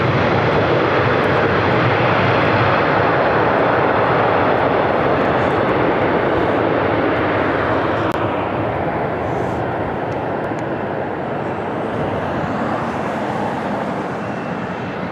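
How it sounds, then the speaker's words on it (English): Southwest Airlines Boeing 737-700 landing at LAX, a loud, sustained jet engine roar that stays close and steady, then slowly eases off toward the end. "Southwest Airlines 3207 coming in from San Francisco on a"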